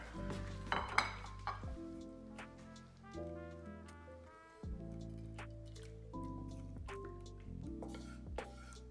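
Mapo tofu being spooned onto a plate, soft wet squishes and drips with light clinks of a utensil against the dish, close and quiet.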